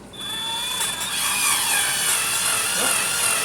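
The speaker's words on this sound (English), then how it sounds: "I'm going to have to drill some starter holes" A power drill whines at a high pitch while drilling starter holes to secure an aquarium lid hatch, the motor's tone shifting slightly as it bites, steady and close.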